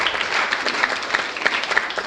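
Wedding guests at a reception applaud together, a dense steady round of clapping from a sizable crowd filling the room, loud and continuous.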